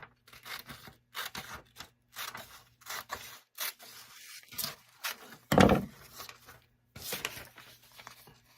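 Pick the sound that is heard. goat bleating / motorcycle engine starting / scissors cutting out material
scissors cutting out material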